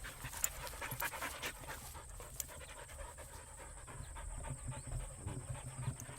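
A dog pants rapidly and steadily close by outdoors, a continuous breathy huffing that runs through the whole stretch, with no talking.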